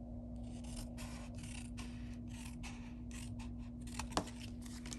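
Scissors snip through cardstock for a heart-shaped papercraft box in a series of quiet, rhythmic cutting strokes, close and faint against a steady background hum.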